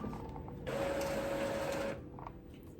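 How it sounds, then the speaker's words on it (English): A receipt printer runs off a Shopify order slip in one steady mechanical whir lasting about a second and a half, with quiet room noise before and after. "So I print out the receipt"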